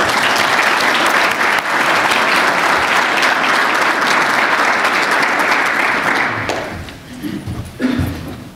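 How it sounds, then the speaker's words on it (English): Loud, dense audience applause fills a conference hall as a keynote speaker at a mobile development day is welcomed, holding steady before thinning into a few scattered claps near the end. "please join me in a round of applause for Julian as we welcome him in his initial remarks"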